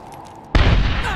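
A grenade blast in the shooter game Medal of Honor, a sudden loud booming explosion after a quiet dark lead-in, followed by sustained roaring debris and rumble.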